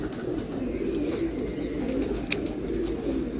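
Pigeons kept by a breeder in a loft coo in a low, steady, continuous murmur, with several birds overlapping throughout.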